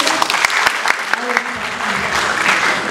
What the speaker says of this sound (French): on applaudit le diapositive.